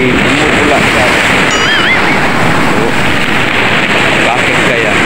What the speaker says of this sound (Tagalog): Explore natin ang bagsak ng alon na bumubula.